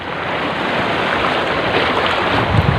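Rough sea waves slosh and rush steadily around a small fishing boat out at sea, a loud, close, continuous wash of water noise with some wind.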